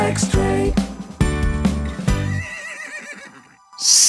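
A horse gives a loud, drawn-out neigh with a shaky, wavering whinny, preceded by strong rhythmic sounds and ending in a harsh burst of noise.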